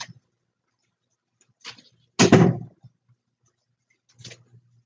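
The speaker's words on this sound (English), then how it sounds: "close my door" A door closes near at hand with a single sharp knock-like thud, set among a few faint scrapes and taps in an otherwise quiet room.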